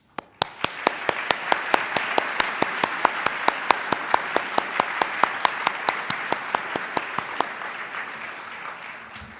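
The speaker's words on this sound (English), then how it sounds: "I would like you to applaud the graduates and their families" Audience at a medicine and surgery graduation ceremony applauding the graduates and their families, steady close clapping from many hands that holds for about eight seconds and then fades out, with no talking over it.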